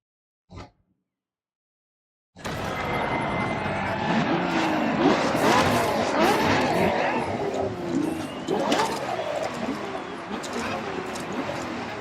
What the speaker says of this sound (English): La Ferrari is the first Ferrari we have with an hybrid engine.